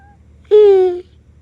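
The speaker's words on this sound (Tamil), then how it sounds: "பூனை கத்துறது மியாவ்" A single cat meow, a short, clear, tonal cry of about half a second with a slightly falling pitch, loud and alone against a quiet background.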